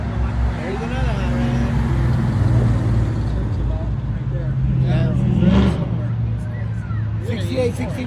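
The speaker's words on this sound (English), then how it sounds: "So we're sitting in Alpena at Latitudes Tavern as the car show goes by." Classic hot rods and other cars rolling past during a car show parade in Alpena, Michigan, heard from a tavern patio: a steady, loud engine rumble with passing surges, under crowd chatter and nearby voices.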